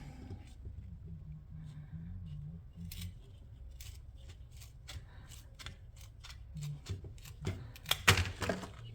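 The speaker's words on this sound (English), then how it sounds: "Okay, so I'm gonna cut 39." Scissors cutting a length of cord or strap at close range, a series of quiet snips and clicks that grow louder and denser toward the end over a low background hum.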